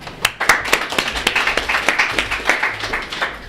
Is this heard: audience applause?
yes